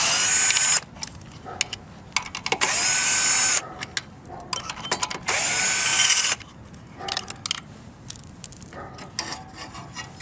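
A power drill backs screws out of the air filter cover on a Coleman Powermate 1350 generator, with several loud, close whirring bursts separated by short pauses and faint clicks.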